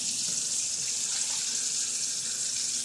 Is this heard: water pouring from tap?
yes